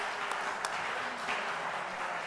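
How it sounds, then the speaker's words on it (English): A meeting audience applauds themselves, a continuous, moderately distant patter of many hands clapping steadily for a couple of seconds without voices. "So I think you should give yourself a round of applause."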